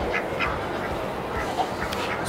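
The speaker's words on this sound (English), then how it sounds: "Some ducks." Farm ducks give several short quacks over an outdoor background hum, the calls moderately close and spaced irregularly across a couple of seconds.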